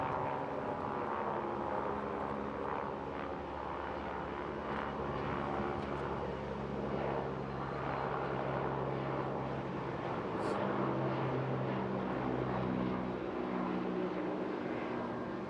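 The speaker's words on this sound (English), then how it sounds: "Rasping sound there coming from the Rolls-Royce Nimbus 710 horsepower engine." A Rolls-Royce Nimbus 710 horsepower engine on a small naval vessel gives a faint, steady, rasping drone heard from a distance at an air festival, continuous with slight swells and no talk over it.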